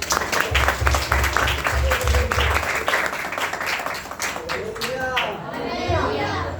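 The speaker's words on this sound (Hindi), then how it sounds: "अंकल जी का स्वागत करें ताली बजा के" Audience clapping in a church gathering to welcome an elderly man, a burst of many hands mixed with children's chatter and voices, fairly close and steady before talk takes over.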